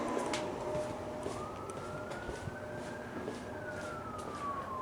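A sheriff's police car siren wails steadily as it passes along a road, rising and then falling in pitch over a continuous rumble of street traffic, fairly distant and with no voices.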